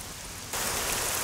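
Heavy rain pours down in a dense, steady hiss that jumps noticeably louder about halfway through this brief moment.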